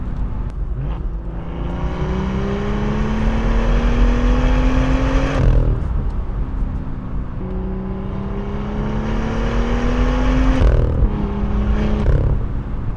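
A first-generation BMW M2 drives on public roads, its engine climbing steadily through the revs in two long pulls, each ending in a sharp gear change, heard loud and close with no talking.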